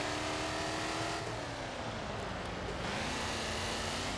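A Jaguar XFR is driven hard through city streets in City Car Driving: a steady engine drone that rises and falls in pitch as it revs and shifts, heard alone without talk.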